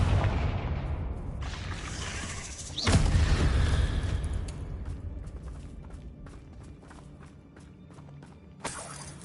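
Confringo fire spell blast in Hogwarts Legacy: a single heavy explosive boom bursts out, then a long rumbling decay with scattered crackles and footsteps, and a smaller thump near the end.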